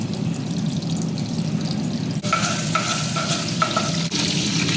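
Butter and oil sizzle steadily in a pan on a home stove while prawn biryani is being made, a continuous frying hiss with a few light stirring clinks and drips near the end, no talking.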